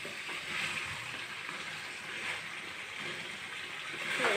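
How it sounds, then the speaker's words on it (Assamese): Duck meat frying in a pan with pumpkin and potatoes, a steady soft sizzle and bubbling of cooking liquid running throughout, close and moderately quiet, with no talking. "এয়া সুন্দৰকৈ ভাজ খাইছে।"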